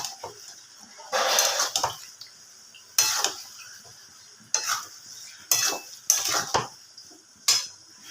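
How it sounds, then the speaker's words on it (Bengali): Jackfruit curry with garam masala is stirred in a pan, giving intermittent scraping and clinking strokes of a spoon against metal in separate bursts, fairly close and alone. "এবার একটু গরম মশলার পুরো দিয়ে খুব ভালোভাবে মিশিয়ে নেব"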